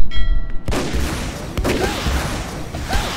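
A Gatling gun fires in the video game MicroVolts: a loud, dense, continuous roar of rapid gunfire after a sharp onset, with a few whistling tones over the barrage.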